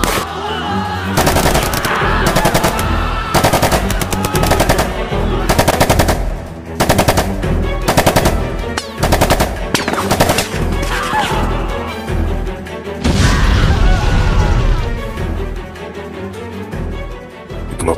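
Rapid bursts of machine-gun fire from a toy-soldier stop-motion battle, loud and continuous across the whole stretch, with brief gaps between volleys and crashing impacts mixed in.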